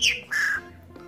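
A pet bird gives two or three loud, close squawks in quick succession, harsh and screechy, with no talk over them.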